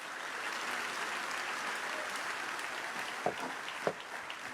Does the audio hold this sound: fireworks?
no